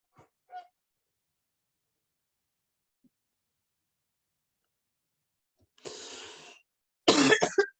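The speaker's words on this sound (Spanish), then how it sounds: "tengo una tos terrible, una alergia que no se me va" A man with an allergy coughs in a quiet classroom lecture: a faint short sound near the start, then two harsh bursts close together at the end, the last one loudest.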